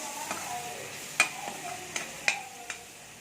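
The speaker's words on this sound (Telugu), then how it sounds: "ఇప్పుడు కొద్దిగా పసుపు కొద్దిగా ఉప్పు వేద్దామండి" A spoon stirring turmeric and salt into a beans and tomato fry in a pan, with a soft sizzle underneath and several sharp scraping clicks of the utensil against the pan, no talking.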